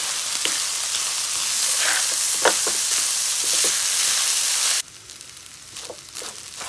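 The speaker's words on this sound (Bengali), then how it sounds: "এখন আমি চালটা দিয়ে দিব, ভালো করে কষিয়ে নেব।" Rice fries in hot oil for khichuri, a loud, steady sizzling hiss broken by scraping stirring strokes, then the sizzle drops sharply to a much quieter simmer with a few faint stirs.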